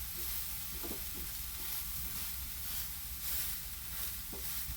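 A steady, fairly faint sizzle of an instant dosa roasting on a griddle over a raised flame, continuous and even with a couple of soft ticks; no talking.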